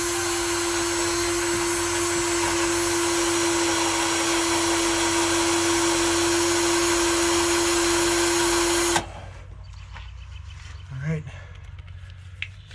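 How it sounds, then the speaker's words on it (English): A power drill boring out a stripped screw, a loud steady whine holding for about nine seconds before cutting off abruptly, followed by quiet handling noises. "Let's drill it out."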